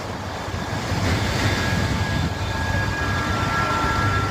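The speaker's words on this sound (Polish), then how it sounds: "W środku chłodni woda się leje. Setki tysięcy litrów." A steady, dense roar of hundreds of thousands of litres of water falling inside a power station cooling tower at Slough, UK, broad and rushing like heavy rain or a cascade heard from nearby.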